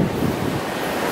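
Rough ocean surf rolls onto a foggy beach, a broad continuous roar of waves mixed with wind buffeting the microphone, loud and close, with no voices.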